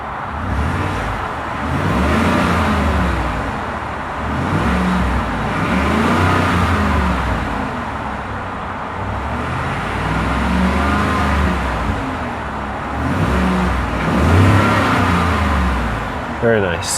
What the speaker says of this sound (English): I'm just gonna give it a couple of revs.